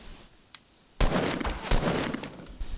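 Gunfire in the Fortnite battle royale game, a sudden loud burst of shots after a quiet stretch with a single faint crack, then continuing dense rattling fire and a second heavy blast.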